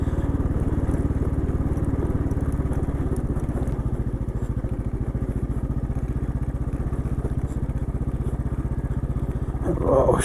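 An off-road motorbike ridden on rough ground, its engine chugging in a fast, steady pulse that stays close and loud throughout, with rattling and crackling under it and a louder surge right at the end.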